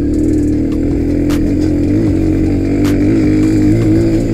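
A Victory MRX 150 motorcycle engine while riding, a loud, steady mid-pitched drone close by with slight shifts in pitch and a couple of brief clicks, no voices.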